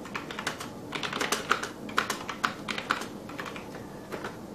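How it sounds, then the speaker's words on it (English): Keys clacking as a short BASIC program is entered on a Briel Altair 8800 kit keyboard, irregular keystrokes in small clusters, close and moderately loud with no talking. "So let's type a little program in BASIC and see if it runs."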